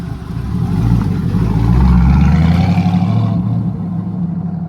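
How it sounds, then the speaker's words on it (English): TVR V8 sports car rolls past with a deep, throaty engine note that swells loud and close, then fades as it moves away, with no talk over it. "As it sounds like we got the TVR Camera rolling out, that beautiful TVR V8."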